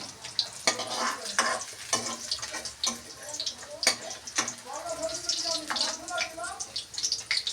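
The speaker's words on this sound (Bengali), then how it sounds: "পনিরটা আমার লাল লাল করে ভাজা হয়ে গেছে।" Paneer pieces sizzle and crackle in hot oil in a pan, punctuated by clattering of a spatula moving them about, with a voice talking over the frying.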